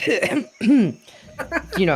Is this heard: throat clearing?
yes